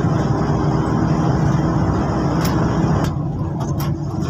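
Steady road noise from a passing vehicle overtaking on a Philippine highway near Roxas, Isabela, a continuous loud engine and tire rumble that thins out near the end, with a few brief clicks and no talking.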